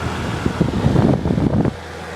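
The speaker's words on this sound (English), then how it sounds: "Just a fan blowing ice cold air across the evaporator." A dehumidifier's fan blows steadily across the cold evaporator with the compressor shut off, a close, even whooshing hum with a faint low drone that drops away near the end.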